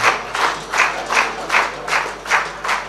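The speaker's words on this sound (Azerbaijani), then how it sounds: "Alqışlayan əlləriniz var olsun" Rhythmic group clapping fills a hall during an Azerbaijani ashiq saz concert: around eight even, pulsing waves of hands beating together, close and full, with no talk over them.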